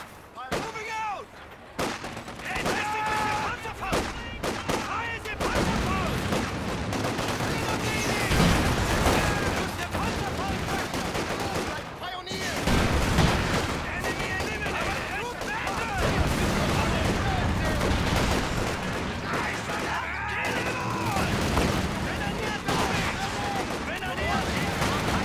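Gunfire and artillery from the WWII strategy game Company of Heroes 2, with dense, continuous rattling shots and booming blasts over about 25 seconds, loud throughout. Game voices shout commands over the battle.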